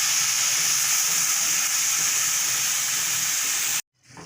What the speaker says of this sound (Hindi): और इस मसाले को अच्छी तरह भूनेंगे।